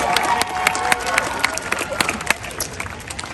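Crowd at a sea lion show claps and cheers, a busy spread of scattered claps with sharper individual hits standing out over a lively murmur of the audience.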